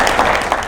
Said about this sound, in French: On va encore l'applaudir